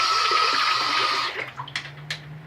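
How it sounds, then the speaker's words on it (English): Tap water runs steadily while a razor is rinsed in a bathroom sink, then stops, leaving a few splashes and drips against a low hum. "Let me rinse this razor off."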